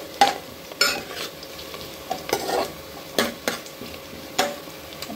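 Onion fries in a pan with a soft continuous sizzle, broken every second or so by sharp scraping strokes of a spoon stirring it; no one speaks.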